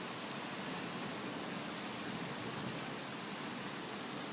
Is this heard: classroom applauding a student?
no